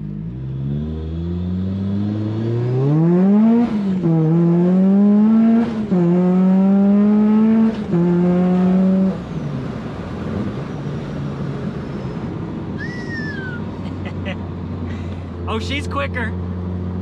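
A Rotrex-supercharged car pulls hard at full throttle, the engine note climbing loud and close through several gears with brief dips at each shift, then easing off to a steady cruising hum.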